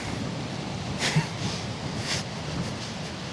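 Wind blowing across an outdoor disc golf course, a steady rushing roar with a couple of stronger gusts swelling briefly, close against the microphone.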